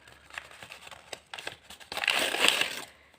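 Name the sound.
plastic packet crinkling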